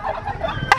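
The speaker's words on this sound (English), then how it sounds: "A bunch of turkeys on the side of the road." A short burst of wild turkeys gobbling by a roadside, fairly close, with a sharp squawk near the end.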